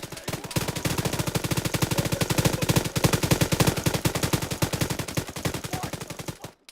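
Automatic gunfire from a gang war scene, a long fast rattling burst of evenly spaced shots that runs steadily for several seconds before cutting off, loud and close with no talking.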